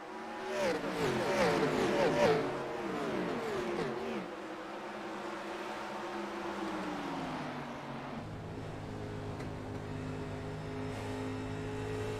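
Simulated NASCAR stock cars in the iRacing game roar together at a green flag restart on Nashville Superspeedway, a loud layered engine drone with rising and falling pitch sweeps early, then settling into a steadier hum.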